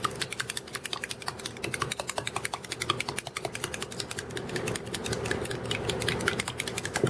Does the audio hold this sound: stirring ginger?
no